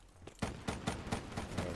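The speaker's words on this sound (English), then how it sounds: "I'm gonna give this this cotton candy pump action gun a piece" Pump-action shotgun fire in the video game Black Ops 3: a faint series of about six evenly spaced booming shots over less than two seconds.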